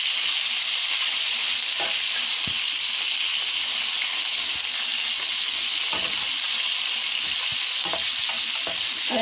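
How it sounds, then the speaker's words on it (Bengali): Chicken pieces frying in hot oil for crispy chicken, a steady, loud sizzle with scattered pops and occasional stirring clicks throughout, no talking. "আর একটা পিঠ ভালো করে মাংসটা ভেজে নেব"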